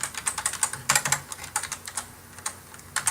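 A computer keyboard is typed on in quick, uneven bursts of close, crisp key clicks, with short pauses between runs and no talk over it.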